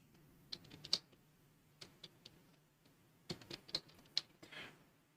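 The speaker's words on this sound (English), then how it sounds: "And now we can type in configure." Someone types a command on a computer keyboard, with a few faint, close key taps in short clusters and pauses between them in a quiet room.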